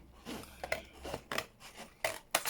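Scissors cut paper while a junk journal page is decorated with a winter botanical theme: a few separate snips and crisp rustles spaced irregularly, close and quiet.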